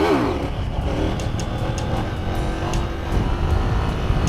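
Sport bike being ridden with the engine droning and revving continuously, loud and close, with steady rumble and wind noise and no talking.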